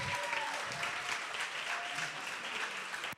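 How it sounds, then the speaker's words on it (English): An audience at a plenary session applauds the panelists, a steady, moderately distant wash of clapping lasting a few seconds before cutting off abruptly. "Can y'all do me a favor and just clap for our panelists here?"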